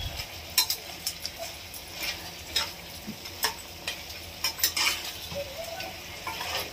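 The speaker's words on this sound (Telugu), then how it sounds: "అంటే ఇక్కడ వేగుతుంది" Chicken cooked in green masala fries in a pan with a soft crackling sizzle, while a spoon scrapes and taps against the pan in irregular bursts.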